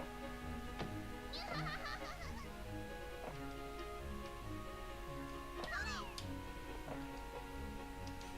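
Kittens meow in the video game Tail Concerto, a few short mewing calls near the start and again around six seconds, over steady game music with ticking clock-like sounds.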